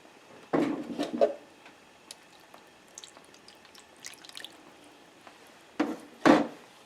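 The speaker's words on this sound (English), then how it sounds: "I'm going to add 2 cups of milk to it." Milk pours into a cauliflower bake in two short splashing bursts, one near the start and one near the end, with quiet clatters and small knocks in between.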